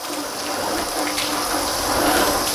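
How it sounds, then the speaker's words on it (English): Water sprays over a freshly washed car during rinsing, a continuous rushing hiss of spray hitting the bodywork that holds steady and builds slightly toward the end, with no talking. "Okay, so we've washed it, let's rinse it down."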